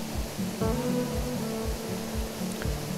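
Stream water flowing steadily through a forest valley in a Korean natural recreation forest, a continuous rushing wash with a recurring low burbling pulse, close and unbroken.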